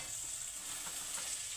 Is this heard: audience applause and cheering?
no